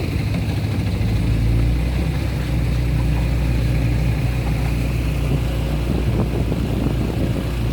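A 1959 Johnson Super Sea-Horse 35 hp outboard motor running on an AeroCraft boat, a steady loud low engine rumble that holds evenly throughout with no speech.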